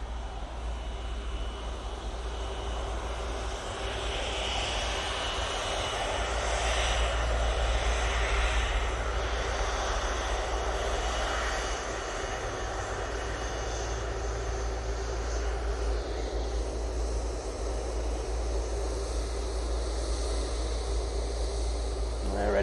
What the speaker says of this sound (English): they're going off to Palma de Mallorca using this absolutely epic aircraft